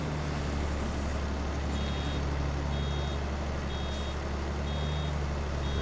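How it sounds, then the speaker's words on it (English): Reversing beeper on a vehicle in the Farming Simulator 22 farming game sounds as short evenly spaced high tones repeating about once a second over a steady low engine rumble, with no talk. "There's that beeper again."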